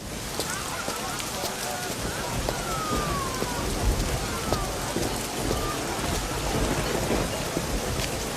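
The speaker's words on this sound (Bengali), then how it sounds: "দেখো বৃষ্টি এসেছে, এটা ফাদ্দানের দুর্ভিক্ষকে তাড়িয়ে দেবে।" Rain pours steadily with dense crackling drops and low rumbling thunder, loud and continuous, with faint voices at times beneath it.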